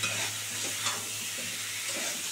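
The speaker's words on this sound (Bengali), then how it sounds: "আর এটাকে একটু ভালো করে সুন্দর করে কষাবো" Prawns with onion, green chilli, salt and turmeric frying in a pan, a constant close sizzle with faint stirring scrapes and no talk.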